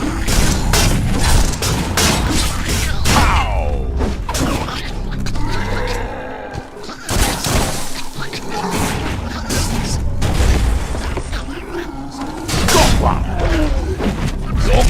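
In the video game Biomutant, a creature rams a door with a series of loud, heavy booms and thuds. The blows come in irregular bursts, mixed with mechanical clatter and game sound effects, and a narrator's voice is heard in places.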